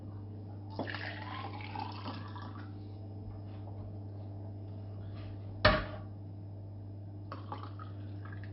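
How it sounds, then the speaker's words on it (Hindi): Cold milk energy drink is poured into a glass, giving a soft liquid trickle and splash with a faint clink partway through, set against a steady electrical hum in a quiet room. "मैं इसमें गिलास में डाल कर आपको बताऊँगा"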